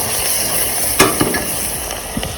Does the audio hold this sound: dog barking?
no